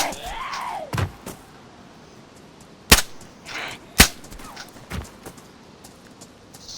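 Sharp gunshots fired at zombies in a survival video game, a few separate cracks spaced over several seconds with quieter thuds between, no talking.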